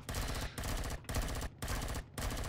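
Sci-fi survival game gunfire from Empyrion Galactic Survival rattles out in four loud, rapid-fire bursts, each about half a second long, separated by brief pauses.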